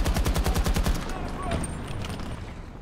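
Rapid automatic AK rifle fire in the shooter game Battlefield 2042, a loud, fast burst of evenly spaced shots for about a second, then trailing echo and quieter distant gunfire while a voice talks over it.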